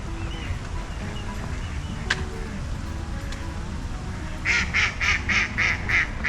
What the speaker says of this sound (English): Oh, look at all the ducks.